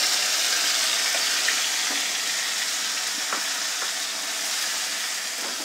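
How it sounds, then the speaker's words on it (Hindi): Tomato puree added to golden-fried besan gatte masala in a pan over medium gas, giving a steady loud sizzle and frying hiss with a few soft stirring clinks, no voices. "अब ये मेरा सुनहरा हो चुका है, अब मैं इसके अंदर टमाटर की प्यूरी डाल रही हूँ।"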